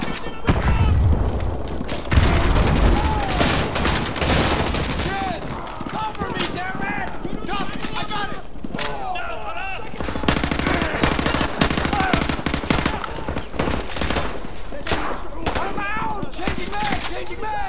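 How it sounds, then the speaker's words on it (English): Heavy automatic gunfire rattles in rapid bursts with loud impacts in the video game Call of Duty Modern Warfare 2 Campaign Remastered, as soldiers shout over the shooting during a firefight near a school. "We are taking heavy fire from the school!"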